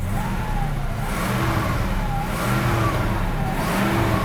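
A 1970s Mercedes-Benz W116 350SEL with a freshly repaired fuel distributor runs and revs, a loud, close engine drone that rises and falls in a few smooth throttle swells.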